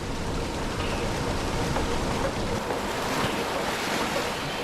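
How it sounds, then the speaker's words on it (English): Heavy spring runoff from the mountains surges as floodwaters rushing toward a dam, a steady, loud broadband roar of churning water that stays constant throughout with no voices. "the heavy spring runoff creates surging floodwaters"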